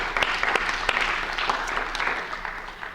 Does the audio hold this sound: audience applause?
yes